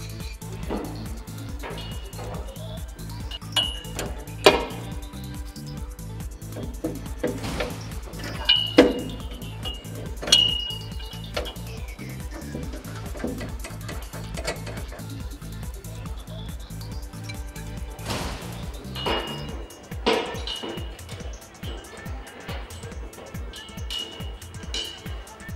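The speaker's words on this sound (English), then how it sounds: "Use 2 24mm wrenches to loosen the nuts." Two 24mm wrenches loosen nuts on a clear-floor car lift during assembly, giving faint clinks and metallic taps over a steady low rhythmic hum with scattered louder knocks.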